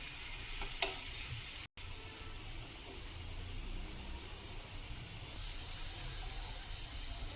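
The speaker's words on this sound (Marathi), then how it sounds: "थोडा कांदा भाजून घ्यायचा मस्त." Onion frying in a pan, a quiet, continuous sizzle heard close up with a brief dropout and a faint clink early on.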